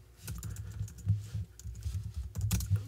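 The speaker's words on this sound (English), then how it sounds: "And then I will type in" Someone types on a computer keyboard in quick uneven bursts of keystrokes, close and clear, with short pauses between runs of taps.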